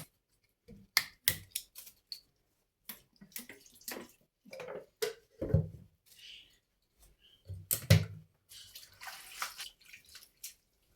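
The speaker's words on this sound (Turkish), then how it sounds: "Biraz sirke dökeyim de." Vinegar is poured while making a tomato and chili pepper pickle, heard as a series of short splashing and gurgling bursts of liquid with brief pauses between them, close up and with no talking.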